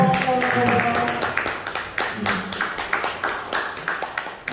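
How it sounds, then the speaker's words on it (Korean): Audience clapping at a Korean seminar, a burst of hand claps that begins dense and then thins into scattered, individual claps as it fades out. "박수 쳐주세요"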